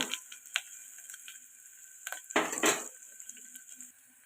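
Spices and a dried red chilli fry in oil for an Andhra-style tempering, a quiet sizzle broken by sharp clinks and scrapes of a utensil against the pan.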